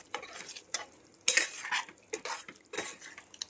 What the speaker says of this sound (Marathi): आधी जेव्हा कच्चे असतात तेव्हाच त्याला एक स्टर द्यायला लागतो.